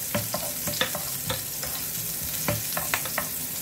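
Onion sautés in a pan before squid, ginger and garlic are added, giving a loud, close sizzle broken by repeated sharp scrapes and clatters of a spatula stirring, with no talk.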